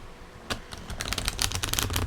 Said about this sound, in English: I've just got to keep my hands moving, so I'm shuffling cards